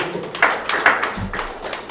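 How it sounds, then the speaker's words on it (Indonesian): Church congregation clapping hands during a sermon, a short burst of brisk close applause with a few pronounced claps. "Tepuk tangan dulu."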